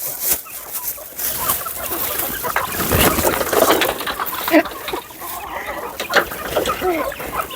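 Chickens let out of their coop cluck and squawk steadily at close range while being fed scattered food outdoors, with busy overlapping calls and no talk.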